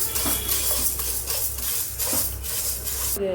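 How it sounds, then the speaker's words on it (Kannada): Moong dal being fried in a pan, a spatula scraping and stirring in a steady rhythm with light metallic clinks. "ಬಾಣಲೆಗೆ ಹೆಸರುಬೇಳೆ ಹಾಕ್ಕೊಂಡು ಫ್ರೈ ಮಾಡ್ಕೊಬೇಕು."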